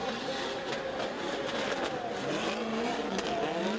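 A BMW M5-engined Subaru Impreza drifting at the HGK Drift Challenge 2016, its engine roaring loud and sustained with shifting revs and a rising, falling pitch, steady throughout.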